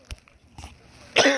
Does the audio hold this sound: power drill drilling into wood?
no